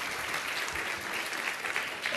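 Brief applause from students in a lecture hall during a medical immunology lecture, an even, moderately soft patter of many hands lasting a couple of seconds with no talking.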